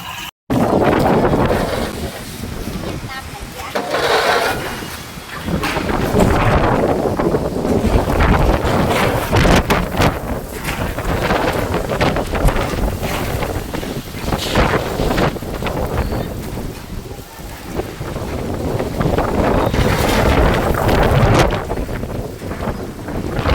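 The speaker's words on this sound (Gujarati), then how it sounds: "ભર ઉનાળે ચોમાસું અને વાવાઝોડું અને ધૂળ ઉડે છે" Strong gusting wind of a summer storm roars and buffets the microphone continuously, loud and turbulent, with surges and lulls over the whole stretch, dust blowing.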